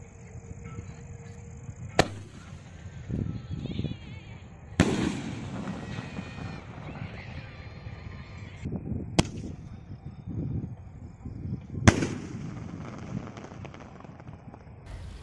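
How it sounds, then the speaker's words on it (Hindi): A Ravindra Fireworks Four Season sky shot firework fires several loud, sharp launch bangs a few seconds apart, each followed by crackling bursts and hiss, heard fairly close outdoors. "गाइस अब इग्नाइट करते हैं रविंद्र फायरवर्क के फोर सीजन स्काई शॉट कर, देखते हैं इसका किस तरह का डेड डिस्प्ले इसमें देखने को मिलता है"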